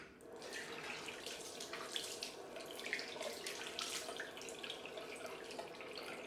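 A bathroom tap runs steadily into a sink during a shave, a faint continuous splashing stream with no talking.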